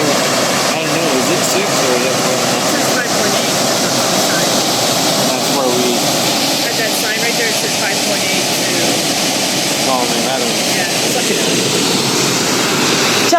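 Loud, steady roar of a powerful river rushing beneath a bridge on the Tuolumne River, broadband and continuous throughout with no pauses.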